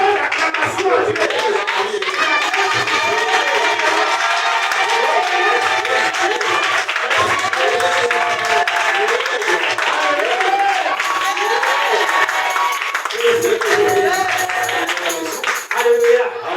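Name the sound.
congregation clapping and acclaiming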